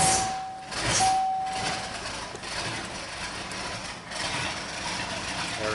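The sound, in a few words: 1981 Mercury Marquis engine running after cold start at -26°C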